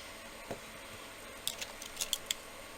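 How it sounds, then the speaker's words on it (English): Small ovals are cut from polymer clay by hand, giving faint, quiet clicks and snips: one soft tap early, then a cluster of five or six crisp little cuts close together in an otherwise quiet room. "just to cut out the smaller ovals"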